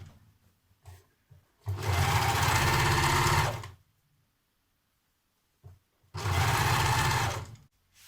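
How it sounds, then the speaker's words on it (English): An overlocker serges the raw edge of a skirt waistband for a Simplicity 2184 skirt, running in two close, steady whirring bursts of about two seconds each, separated by a short silence. "Now with the waistband in position, I'm going to overlock that raw edge."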